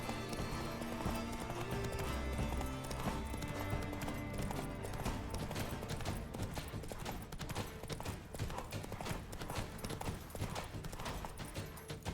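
The horse Roach gallops in The Witcher 3 with steady rapid hoofbeats, loud and close, running continuously over a busy game soundtrack.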